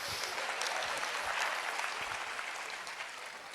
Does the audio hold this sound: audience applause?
yes